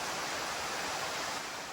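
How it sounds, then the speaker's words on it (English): Waterfall on the Appalachian Trail, dropping from 80 to 100 feet above, gives a steady, loud broadband roar of falling water with no voices. "That waterfall is probably 80 to 100 feet above us."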